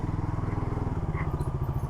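A motorcycle engine runs close by with a steady, pulsing low throb that holds level throughout, no talk over it.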